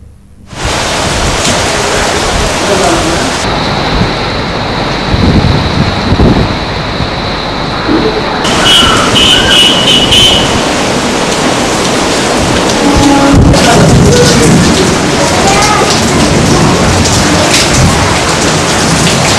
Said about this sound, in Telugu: వరంగల్ జిల్లాలో కురిసిన భారీ వర్షాలు ఈదురు గాలులు బీభత్సం సృష్టించాయి